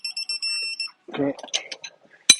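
A torque tool beeps in a short series of repeated high tones while BMW E36 M3 transmission mount nuts are tightened, followed by workshop clatter, a brief voice and a sharp metallic click.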